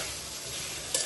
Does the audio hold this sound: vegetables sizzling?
yes